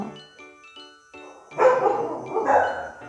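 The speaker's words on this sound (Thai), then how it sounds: "หมามันก็เห่าอะนะคะ" Dogs bark and howl during a power outage, a loud, rough chorus rising midway after a few faint, tinkling tones, fairly close and continuing to the end.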